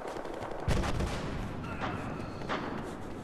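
Gunfire from a submachine gun in the Battlefield Hardline video game, heard as a sharp burst of shots followed by a few more distant cracks and bangs over a noisy background din, fairly faint overall and with no talking.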